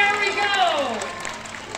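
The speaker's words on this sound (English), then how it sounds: "give yourselves a big round of applause" An audience at a Disneyland storybook theater show claps and cheers in a brief burst, with a voice talking over it.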